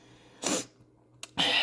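Two sharp, loud sneezes set off by black pepper, each one a sudden burst after a quiet pause, close to the microphone.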